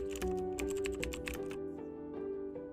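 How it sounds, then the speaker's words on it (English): Keys clacking on a computer keyboard as a web search is typed, a close, steady run of quick taps over a low background hum. "open Google and type green screen remover"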